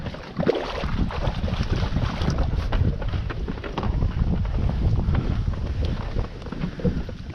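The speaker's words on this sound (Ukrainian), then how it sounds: "Ей, вітер так і піднявся." Gusting wind buffets the microphone with a steady, loud rumble and roar throughout, no voices heard.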